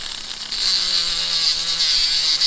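A handheld Dremel rotary tool, held at an angle, rounds and blends the edges of a whale tail bangle, giving a steady, close, high-pitched whine that runs unbroken for the whole stretch.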